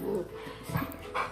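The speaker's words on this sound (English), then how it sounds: "but Scout is like the most chill dog." A pet dog gives a few soft whimpers and small yips indoors, close by, with a person talking over the short whining sounds.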